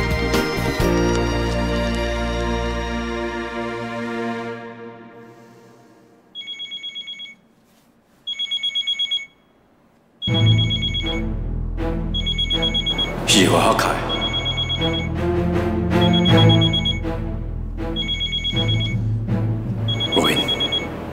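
A telephone rings late at night in a Taiwanese TV drama: electronic ring bursts repeat, first alone after music fades, then again under returning music and background sound.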